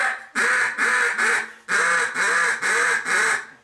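A double reed duck call is blown in a run of seven loud, close, nasal quacks: one short note, a brief pause, then six evenly spaced honking notes, with no talk over them.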